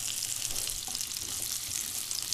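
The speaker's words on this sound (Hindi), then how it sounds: "हम इसमें जो हमने टिंडे काट के रखे हुए थे उनको डाल देंगे" Chopped tinda (apple gourd) hits hot oil with popping mustard seeds and cumin, giving a steady, close sizzling hiss that stays even and unbroken, with no voices.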